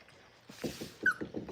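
Hungry Boerboel puppies whimper and yip softly in a series of short, close, high-pitched cries, several overlapping bursts following a quiet start.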